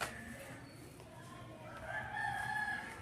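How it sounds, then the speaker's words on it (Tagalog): A rooster crows in the distance, a drawn-out call rising near the end, over soft background noise and faint clucking of chickens, in a quiet cemetery. "may mga ingay pa ng mga manok."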